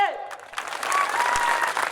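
A crowd at a political rally in Sangola breaks into a dense wash of clapping right after a speaker's voice trails off, loud and sustained to the end.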